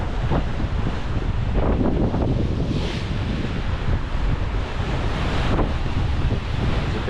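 Ocean waves and strong wind on the Tasman Sea aboard a Cheoy Lee 52 motorsailor, loud continuous wind buffeting the microphone over rushing surf and periodic wave splashes.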